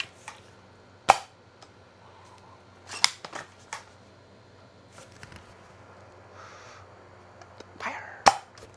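An SVD Dragunov-style gel blaster toy rifle of metal and nylon construction fires several sharp, close snapping shots spread irregularly across the stretch, with quiet handling noises between them and no talk.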